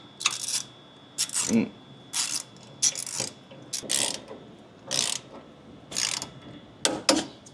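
A ratchet on a 15mm socket tightens S&B body mount kit bolts to 60 foot-pounds on a 2003-2005 Dodge Ram 1500/2500/3500, in about ten short, loud, close bursts of rapid clicking with brief pauses between them.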